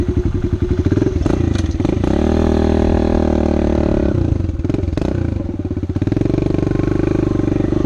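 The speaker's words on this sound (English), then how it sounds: "So we'll go ahead and start the bike up here." A motorcycle engine starts and idles with a throbbing, uneven rumble, then revs up and settles several times, loud and close throughout.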